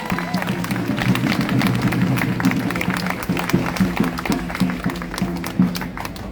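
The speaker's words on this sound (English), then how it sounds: "Big round of applause for Tasneem, everyone." A crowd at an outdoor Free Palestine rally in Melbourne applauds a speaker, with sustained dense clapping and some scattered cheers carrying on for several seconds at close range.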